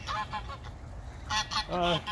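Backyard fowl clamor for food with several loud honking squawks in bursts, near and overlapping, during a Southeast Texas garden scene.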